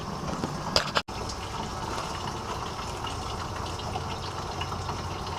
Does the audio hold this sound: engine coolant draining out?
yes